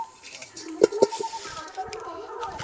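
A cooking pot is set down on a stove with a couple of sharp metallic clanks and clatters, close and fairly loud, amid faint kitchen noise and background chatter.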